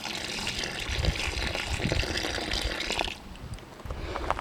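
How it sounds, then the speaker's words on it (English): Water gushes steadily onto a cucumber plant in a garden bed, close and fairly loud with a splashy, hissing texture, briefly easing off near the end before the flow resumes. "And get a good watering in."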